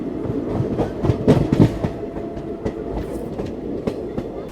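Vibhuti Express passenger train on the Howrah–Prayagraj route running on rails near Raghunathpur, steady rumbling with rhythmic clickety-clack wheel beats and a few louder knocks, heard close from inside the coach with no talk.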